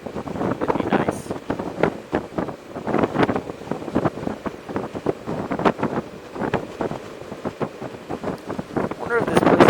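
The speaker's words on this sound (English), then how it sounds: "if it wasn't quite so windy, it'd be nice" Gusty wind buffeting the microphone while riding a Honda Africa Twin motorcycle on a cold coastal road near the ocean, loud and continuous, with someone talking over much of it.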